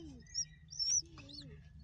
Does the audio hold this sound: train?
no